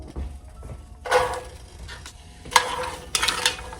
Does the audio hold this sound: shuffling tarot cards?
no